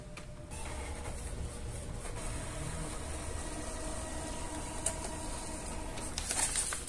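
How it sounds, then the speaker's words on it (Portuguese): An Epson EcoTank L800 inkjet printer prints a nozzle check pattern, a steady mechanical whir and hum of the carriage and feed running continuously at moderate volume, with a few faint clicks toward the end. "Agora vamos aqui imprimir modelo de verificação dos jatos"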